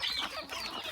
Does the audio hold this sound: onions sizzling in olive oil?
no